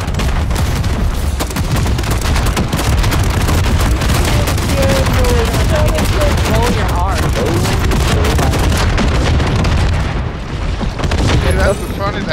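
A novelty meme gun fires nonstop in Call of Duty MW3 Zombies on a Fourth of July themed night, a dense, loud barrage of booming shots and explosions. Players talk over the gunfire.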